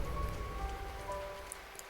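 Rain falls outside in the Slendrina 2D horror video game, a steady, even hiss of drops with a faint sustained tone running underneath, no talking.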